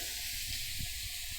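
Meat for biryani fries and starts to burn in a pot, a continuous close sizzle with a soft stir or two and no voices.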